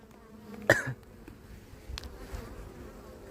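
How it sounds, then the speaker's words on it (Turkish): Honeybees buzz inside an opened beehive in February, with sealed brood on the frames: a soft, steady insect hum close by, with one brief louder knock near the start and no voices. "Çok sakin arı bakın."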